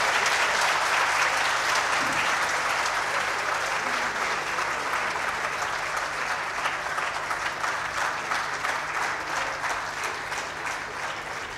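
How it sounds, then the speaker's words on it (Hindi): Sustained audience applause at the 11th Aalmi Urdu Conference 2018, welcoming Pakistani writer Mustansar Hussain Tarar to the stage; a steady, moderately distant wash of clapping that fades slightly toward the end. "मैं चाहता हूं कि आप सब भरपूर तालियां बजाएं"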